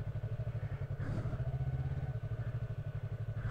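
A Yamaha R3 sport bike engine chugs at low, steady revs along an off-road nature trail, its rhythmic pulsing exhaust fairly faint and distant with no voices over it.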